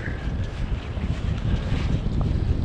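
Strong, cold, wet wind on the shore while surf perch fishing buffets the microphone in a constant low roar, gusting slightly louder toward the end, with no one speaking.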